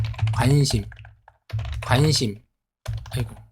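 Keys tapped on a computer keyboard as someone writes, heard as light clicks under a person talking in short bursts with pauses between.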